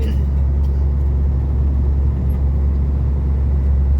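A car descends a steep mountain road, its engine and road noise forming a loud, unbroken low rumble that stays close and even the whole time.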